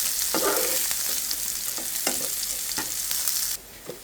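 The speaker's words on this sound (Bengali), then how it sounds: "কাঁচামরিচটা দিয়ে একটু নেড়ে ছেড়ে নিচ্ছি।" Green chilies and onions sizzle steadily in a frying pan, with a continuous hiss broken by several short scraping stirs of the spatula, close and fairly loud, with no talking.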